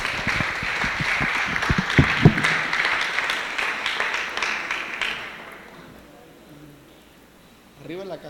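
A church congregation claps for several seconds, the applause fading away, followed by near quiet and then the start of a voice speaking.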